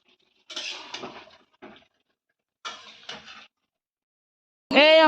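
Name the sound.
pots and pans clattering while cooking meat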